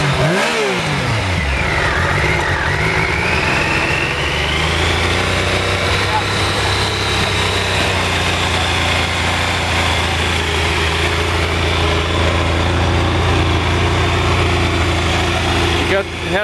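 A Triumph motorcycle engine idles loudly and steadily up close, with a brief rev at the start settling into a constant low rumble and whine.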